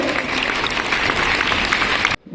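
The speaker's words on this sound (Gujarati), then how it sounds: "તાળીઓના ગણગણાટ સાથે આપણે એમનું ભવ્ય સ્વાગત કરીએ" Applause from a crowd welcoming guests at a girls' school National Sports Day, a dense steady wash of many hands clapping that cuts off abruptly near the end.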